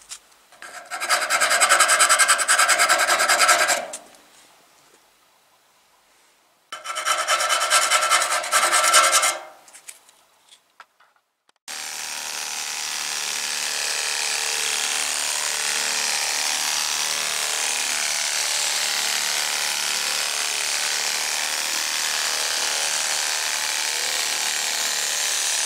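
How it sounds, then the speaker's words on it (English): Sandpaper wrapped on a stir stick is rubbed by hand to shape an opening in the body of an 87 Chevy Monte Carlo SS. Two loud bursts of rasping strokes are separated by a pause, then a steadier continuous abrasive hiss follows. "I just got a stir stick with some sandpaper wrapped around it"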